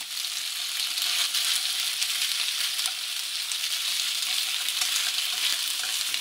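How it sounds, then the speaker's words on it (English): Squid frying in a bubbling hot pan, a steady close hiss and crackle of sizzling oil that carries on evenly throughout with no voices. "Put the squid in straight away where the frying pan is still bubbling hot."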